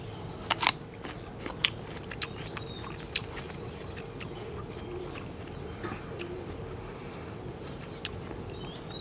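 Close crunching bites and chewing of a ripe Nam Oi No. 12 jujube fruit grown in a plastic basket, a few sharp crisp bites early followed by softer intermittent chewing over faint background noise.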